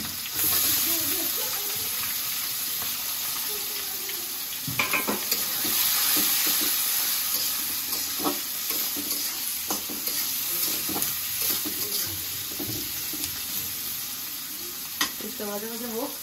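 Onions fry with bay leaf in oil in a pot and are stirred, a steady loud sizzle broken by repeated scraping strokes and clinks of the spoon against the metal, with occasional background voices.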